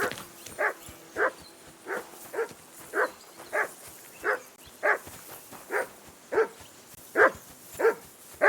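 A dog barks steadily in Kingdom Come: Deliverance II, about a dozen evenly spaced sharp woofs roughly every half second, fairly close and clear over a quiet low background.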